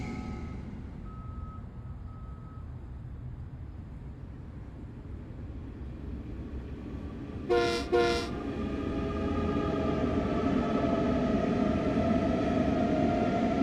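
A commuter train in the New York City rush hour in Train Sim World 4 rolls out with a low rumble that grows louder, after a brief double horn blast and a faint steady tone, with no talking.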